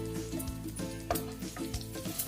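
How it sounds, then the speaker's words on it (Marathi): Cumin seeds and asafoetida sizzle in hot oil in a kadhai, a continuous crackling hiss with small pops and spits throughout, close and steady with no talk. "आपण एक पळी तेल टाकू याच्यात। 1 चमचा जिरं टाकू, त्याला 1 चमचा हिंग टाकून घ्यायचा याच्यात।"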